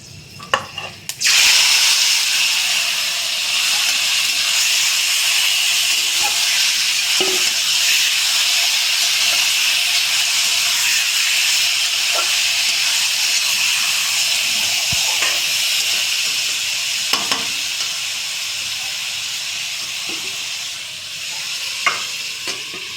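Marinated chicken for chicken kosha drops into hot oil and erupts into a loud, sustained sizzle that holds steady for the whole stretch, with occasional faint stirring knocks beneath, close and without voices.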